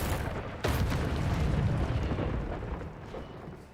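A fire spell blasts out in the Hogwarts Legacy video game, a sudden loud whoosh-burst followed by a broad roaring rumble that slowly fades, with no talking.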